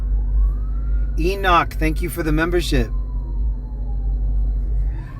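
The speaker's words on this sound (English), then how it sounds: "Well, that's a fire truck trying to come through." A fire truck siren wails in jammed downtown Denver traffic, a rising and falling tone over a steady low engine rumble, with someone talking over it.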